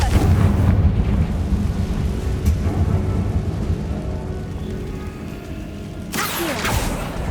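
Confringo blasting spell in Hogwarts Legacy, a loud rumbling fiery blast with a dense low roar that fades, then a sharp burst near the end.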